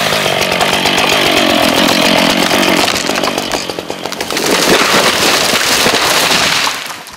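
A chainsaw roars loudly and continuously as a tree is felled during a lumberjack contest, dipping briefly mid-cut before surging again, then easing off at the end.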